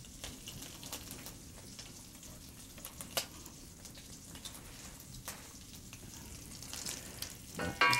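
Bacon fries in a pan with a soft, continuous crackle dotted with sharper pops and spits, close but fairly quiet, with a few clattering handling sounds at the end.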